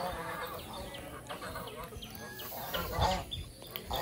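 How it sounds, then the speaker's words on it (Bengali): Chinese geese and king ducks calling together, a jumble of honks and clucking cries that swells and fades, moderately near and not very loud, with some indistinct voice in the background. "আর সবাই খুব ডাকাডাকি করতেছে"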